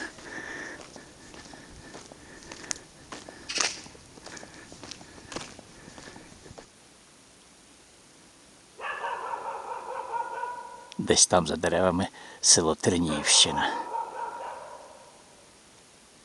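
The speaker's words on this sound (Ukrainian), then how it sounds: "Собаки гавкають так собі, не зле, просто викликаючи хазяїв, щоб погодували їх." A person talks at first over scattered footsteps, then after a quiet pause several dogs bark and yip in bursts, fairly close.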